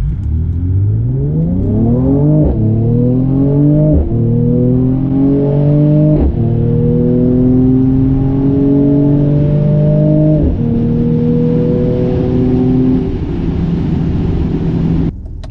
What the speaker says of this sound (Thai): เดี๋ยวเราจะลองอัตราเร่ง0ถึง100กิโลเมตรต่อชั่วโมงในโหมดสปอร์ตพัทของ C43 นะครับ